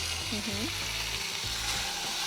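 Boiled chicken, earlier simmered with ginger and garlic, frying in a pan: a steady close sizzle with a brief stir and a faint voice in the background.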